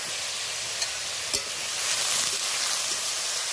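Flattened rice pulao fries on a low flame with salt and turmeric, giving a steady close sizzle broken by a few sharp stirring scrapes.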